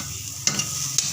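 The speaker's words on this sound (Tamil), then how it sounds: "சின்ன வெங்காயம் நல்லா தட்டிட்டு இப்படி நல்லா வதக்கிக்கணும்" Green chili, ginger, garlic and small shallots crushed and sautéing in a pan with a steady low sizzle, broken by a couple of brief scraping stirs of a spoon; no voices.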